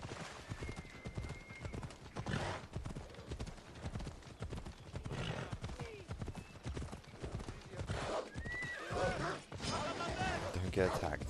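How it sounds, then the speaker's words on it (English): Horses trot at a steady clip-clop rhythm through an Assassin's Creed Odyssey battle scene near Sparta, hooves close and continuous over busy game ambience, with brief whinnies and spoken voices across the passage. "Horses like normally trot with them."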